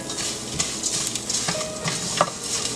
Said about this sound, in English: Add 1 to 2 teaspoons of oil so that curry leaves and all masalas roast well